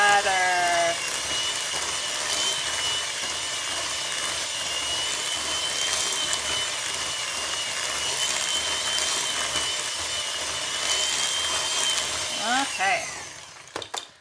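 An electric mixer beats madeleine cookie batter in a kitchen, giving a steady, fairly loud whirring drone that runs unbroken for most of the stretch before it is switched off near the end.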